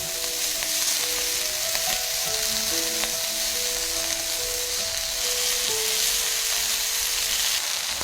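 Slices of pork belly fry in a pan, a continuous close sizzle and spatter at steady loudness with faint clinks of stirring, no voices.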